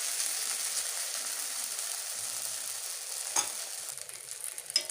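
Leftover-rice egg dosa cooking on a hot pan, giving a steady, quiet sizzle with faint crackles and a couple of soft scraping touches near the end.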